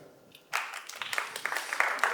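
Scattered clapping from a handful of audience members at a stand-up comedy show, starting abruptly after a quiet moment and continuing as sparse, uneven claps for about two seconds.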